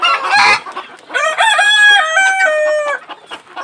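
Native country chickens on a poultry farm, with a few loud, close clucks followed by a long, strong rooster crow with a rising and falling call.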